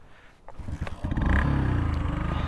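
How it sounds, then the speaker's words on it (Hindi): Motorcycle engine sputters and catches after a few rough attempts, then settles into a loud, close, steady idle with throbbing pulses, no talk over it. "okay bike finally start"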